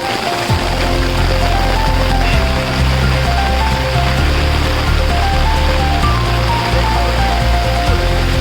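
A small waterfall pours during heavy monsoon rain in the Konkan, a loud, continuous rushing roar of water that stays steady throughout, close and without voices.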